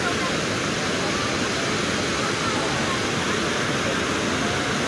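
Floodwater pouring over a town dam in Rio Largo during heavy rain, a loud, unbroken roaring rush of water, steady from start to finish with no clear voices above it.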